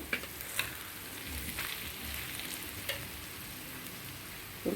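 Onions fry in oil for an egg curry, a soft continuous sizzle with a few light spoon taps and stirring scrapes scattered through.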